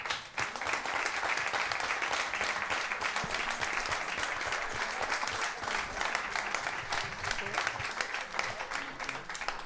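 Lecture-hall audience applause at a conversation event with architect Rafael Moneo, a long, dense wash of many hands clapping, fairly quiet and steady with no speech.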